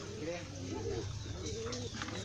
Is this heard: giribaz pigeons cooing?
yes